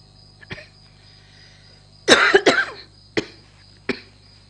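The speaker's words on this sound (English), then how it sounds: "Sorry about the cough." A woman testifying at a Gambian truth commission hearing coughs: a short burst of several harsh, close coughs with a throat clear, plus a few isolated lighter coughs before and after, against a quiet room hum.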